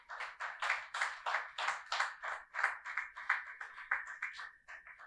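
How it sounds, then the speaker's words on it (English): Conference audience giving a round of applause, steady rhythmic clapping that pulses evenly for several seconds at moderate distance, with no talking over it. "Please let us give the coordinator a resounding round of applause."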